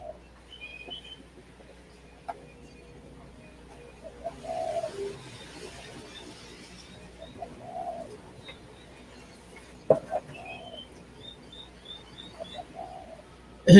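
A pigeon coos softly in a quiet outdoor setting, several short low hooting calls spaced a few seconds apart, faint and somewhat distant, with occasional small chirps and a couple of sharp knocks.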